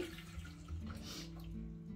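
Water is pressed out of chopped spinach through a kitchen sieve for pancake batter, a soft, steady trickle and dribble close by over a low background hum.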